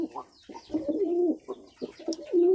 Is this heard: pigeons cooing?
yes